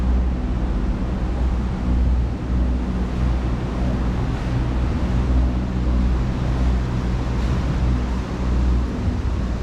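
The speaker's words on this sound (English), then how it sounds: "Really feel the engine fighting against the current." A boat engine on the Norfolk Broads labours against the river current, a steady, dense low rumble with wind and water wash, continuous and close for the whole stretch.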